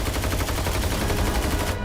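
Naval gunfire during a World War II sea battle: dense, continuous rapid-fire shooting, loud and close, a steady clattering barrage with no pauses.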